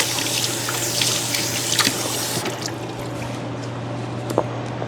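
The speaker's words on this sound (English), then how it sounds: "I'm just going to give them a quick rinse and then cut them up." Tap water running steadily over peeled carrots being rinsed in a kitchen sink, a close, even hiss and splash with a few small knocks, fading a little partway through, with no speech.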